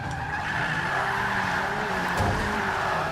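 Tires skid and squeal through a long power slide in the Forza 5 racing game, with a steady engine drone underneath and no voices.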